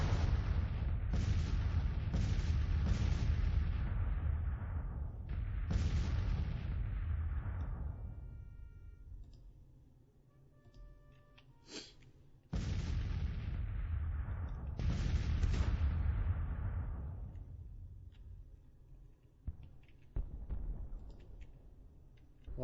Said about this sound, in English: We hear a lot of musketry going on now.